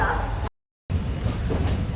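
A train heading from Haflong toward a tunnel rumbles continuously with a low roar and rattle, briefly cut out by a short gap, while a voice talks over it.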